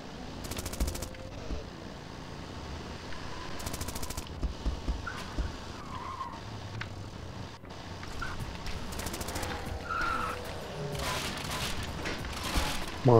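Machine gun fire in the Zombie Driver video game rattles in short, sharp bursts over a constant engine-like rumble and clattering mechanical effects, with repeated volleys spread throughout.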